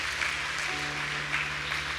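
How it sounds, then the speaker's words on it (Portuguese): Worshippers at a Wednesday church service clap together over a steady sustained keyboard chord, the applause dense and even throughout the short stretch, with a low rhythmic pulse underneath. "Vamos aplaudir a palavra do Senhor em nome de Jesus."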